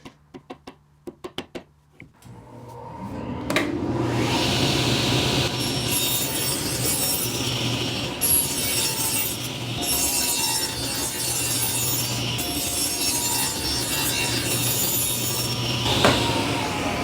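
A power saw trims the edge of plywood for a Murphy bed cabinet: a few sharp knocks, then the motor spins up into a sustained close whine and rasp as it cuts.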